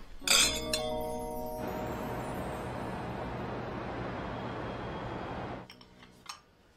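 Glasses clinking together during a toast at a dinner table: one sharp, bright clink near the start, followed by a long stretch of steady background hiss that fades out, then a faint tap.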